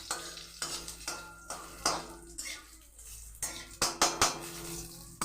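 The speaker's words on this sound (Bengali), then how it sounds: "তো আমি ঠিক হালকা করে এই যে ভেজে নিলাম।" Cumin seeds sizzle gently in a pan for dal, nearly buried under repeated metal clinks and scrapes of a spatula stirring against cookware; no talking.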